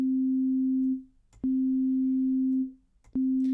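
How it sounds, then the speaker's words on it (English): Pure sine wave tone with no harmonics, a clean steady hum sounding in three separate bursts, each starting with a click and fading out at its end. "You see how this sine wave only has one frequency."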